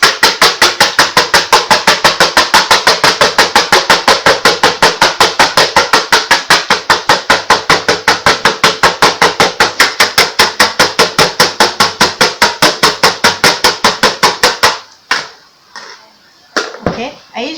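Eggs being whisked by hand in a bowl for a creamed cake mixture, a fast steady run of rhythmic taps lasting about fifteen seconds before stopping, followed by a few faint scrapes.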